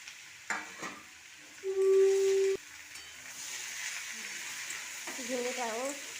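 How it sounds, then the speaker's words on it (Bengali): Ridge gourd and potato pieces frying in a pan give a steady, soft sizzling hiss throughout, with a brief stirring clatter and a short clear tone partway through. "ঝিঙেটাও একটু ভালো করে ভেজে নেব।"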